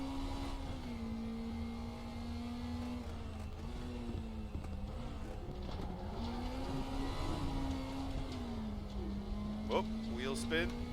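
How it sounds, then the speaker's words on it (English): NSU TTS small car engine buzzing hard while the wheels spin, steady revving with shifting pitch and a short tire squeal toward the end, someone talking over it. "Whoop, wheel spin."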